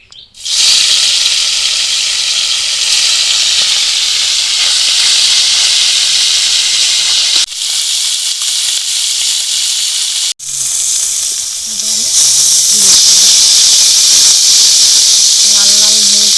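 Rohu fish pieces rubbed with salt and turmeric fry in hot oil in a kadai, giving a loud, steady, close sizzle that runs almost unbroken, with two brief dips.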